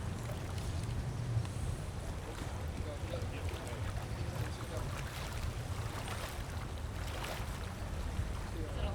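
A canal boat cruising on Amsterdam water, a low steady engine hum with lapping water and light wind, with people talking nearby over the drone.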